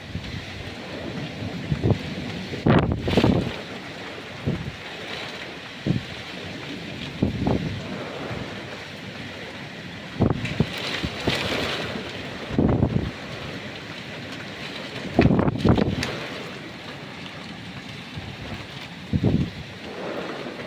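Gusty wind roars and buffets the microphone in bursts during a heavy rainstorm in Ankara, with loud rumbling surges rising and falling over a steady noisy background.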